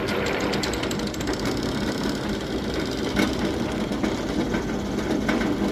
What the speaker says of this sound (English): Just sitting here using my homemade lathe.